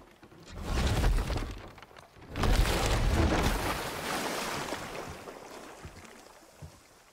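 Boat gliding over open water in God of War, a broad wash of wave and hull noise that swells twice, loud and close, with no talk.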